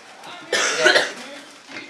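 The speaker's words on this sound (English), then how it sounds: "I've never coughed this much." A person coughs hard after swallowing milk, one loud rasping fit in the middle of a short stretch, with quieter breathy noises around it.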